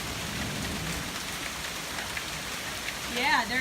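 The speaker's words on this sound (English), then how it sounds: "there's actually hail coming down" Hail and heavy rain pelting down in a thunderstorm, a dense steady patter close by that swells near the end, with a brief voice exclaiming over it.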